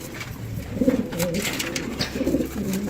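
A domestic pigeon coos nearby in two rolling, throaty phrases separated by a short pause, fairly loud against a light background.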